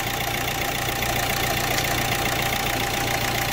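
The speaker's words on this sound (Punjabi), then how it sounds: "ਤੁਸੀਂ ਇੰਜਨ ਦਾ ਸਾਊਂਡ ਦੇਖ ਸਕਦੇ ਹੋ," An overhauled Hyundai Creta engine idling close by, a constant loud mechanical hum with a faint knocking texture and an even tone throughout, with no voices.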